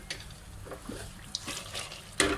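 Water is poured into a cooking pot of matar gosht, a soft splashing pour heard close and fairly quiet, with no talking over it.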